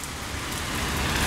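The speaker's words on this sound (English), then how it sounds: "Always gotta be out here in the pouring rain." Pouring rain outdoors in Sarasota, Florida, a dense, even hiss that is loud and close, swelling slightly toward the end, with no speech.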